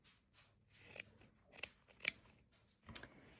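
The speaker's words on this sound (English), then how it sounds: "If you have the selvage on the sides, you're just going to cut them off." Scissors snipping the selvage off small fabric scraps, a handful of crisp close-up cuts in an uneven rhythm with quiet gaps between them.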